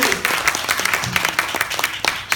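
A couple of audience members clap at a business conference, the BNI Hong Kong annual meeting, giving a sparse, uneven patter of hand claps that lasts about two seconds in a hall.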